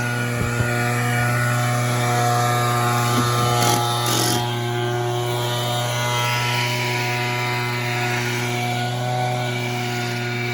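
A leaf blower runs loud and steady on a single-wide trailer roof, blowing debris off freshly laid plywood sheets, with a constant droning hum throughout and a brief surge partway through.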